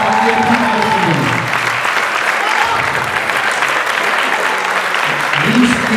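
Audience applause fills a concert hall at a university cultural event, loud and sustained clapping, with a voice speaking over it at the start and again near the end.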